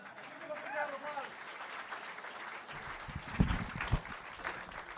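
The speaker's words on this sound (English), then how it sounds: "Give it up for round of applause." Audience applause following a magic card trick, a short burst of clapping that builds after an early bit of speech, with a couple of louder claps near the end.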